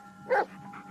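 A single short dog bark, fairly faint, from a dog in the Blair Witch video game, over low ambient background hum.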